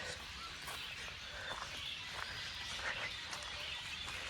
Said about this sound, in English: Sounds like there's a shitload of birds up there.